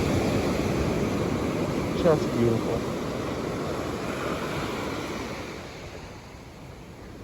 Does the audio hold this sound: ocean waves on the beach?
yes